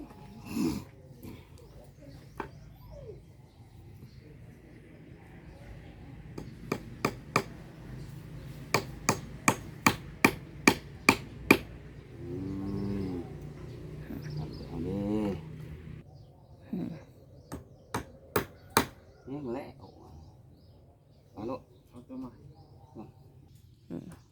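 Sharp, ringing hammer blows strike wood while a house beam is built, coming in rapid bursts of evenly spaced knocks between pauses, with people talking throughout and birds cooing in the background.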